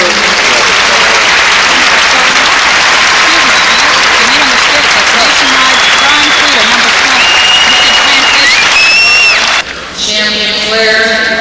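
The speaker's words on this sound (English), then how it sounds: "Let's have a round of applause for this beautiful group." Loud, dense audience applause fills the hall at a 1983 German Shepherd Dog Club of America national show, a steady roar of many clapping hands that breaks off near the end as a voice and ringing tones come in.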